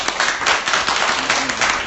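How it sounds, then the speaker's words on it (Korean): Dense, continuous applause from an audience at a book event, many hands clapping at once with no break. "우리가 다 같이 박수 한번 보내주시다"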